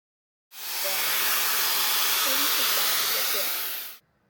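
A Shark Flex Fusion or Dyson Coanda hair dryer blows steadily at close range while styling type 4 hair, a loud, even airy roar that starts abruptly and cuts off after about three and a half seconds.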